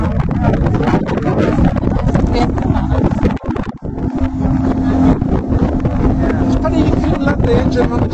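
A boat engine drones steadily on Lough Erne, a lake, under heavy wind buffeting the microphone, close and loud throughout with a brief dip partway.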